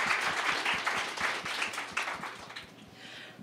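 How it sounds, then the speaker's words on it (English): A festival audience at Sundance applauds its volunteers, with steady, dense clapping that fills the room and then tapers off toward the end, with no talk over it. "can we give them a round of applause?"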